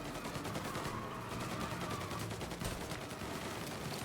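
Rapid, sustained gunfire from a video game rattles along in dense repeated bursts, loud and close, with no talking over it.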